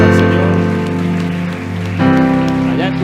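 A church congregation claps in a dense, sustained patter of applause, mixed with steady musical tones beneath, close and fairly loud throughout.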